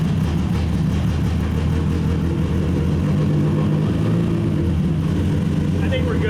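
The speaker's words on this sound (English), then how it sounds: "Give a little more throttle." A race car prepared for an endurance event runs close by with a loud, steady engine roar, its rumble rising and falling slightly as the throttle is worked, and voices are mixed in.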